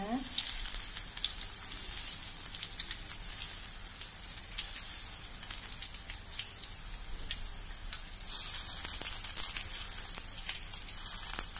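Oil crackles and sizzles continuously as peanut crackers fry in a pan, a dense bubbling hiss that swells slightly toward the end, with no talking.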